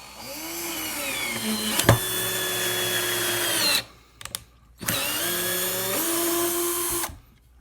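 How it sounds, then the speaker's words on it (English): A KIMO 20V cordless drill driver whirs in two bursts, its motor pitch winding up and straining as it drives a screw, with a short pause between runs. "So everybody likes to see the drill in action."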